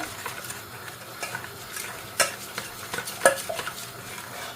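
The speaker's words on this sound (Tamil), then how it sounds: "கட்டியல் இல்லாமல் நல்லா மிக்ஸ் பண்ணி கொடுக்குறேன்" Flour batter for Sri Lankan Jaffna-style Aadi koozh is stirred by hand to break up lumps, a close, continuous scraping swirl with a few sharp clinks of utensil against the bowl, no voices.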